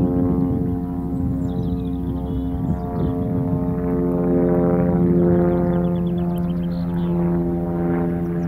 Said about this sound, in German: und ein Flugzeug stört die Ruhe am Koldenkanal.